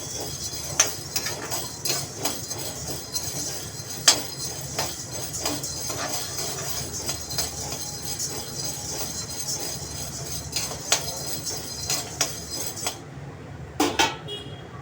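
Lentils dry-roasting in a pan for idli podi, stirred without pause, give a steady run of metallic scraping and light clinks of the spatula against the pan, fairly close, with a few sharper knocks near the end.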